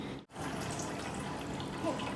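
Water streams steadily out of a plastic bottle with a small cut opening, a continuous hissing splash after a brief break, heard close and without talk.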